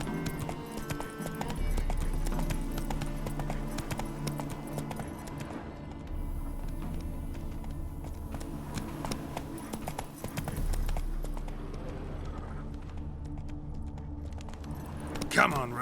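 Horse hooves clip-clop steadily at a walking pace in The Witcher 3 video game, with game music and voices in the background throughout.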